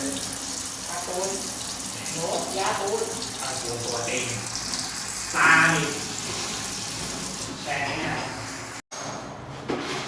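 Water runs from a repaired bathroom washbasin faucet in a steady splashing stream, with someone talking over it and a few clunks and knocks, cutting out briefly near the end.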